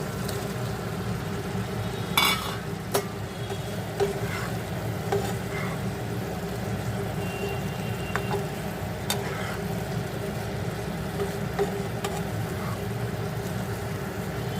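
Pointed gourd (kakrol) stirred into hot oil with cashew paste for a butter kakrol dish gives a steady, moderate sizzle, with occasional clinks and scrapes from the spoon and no talking.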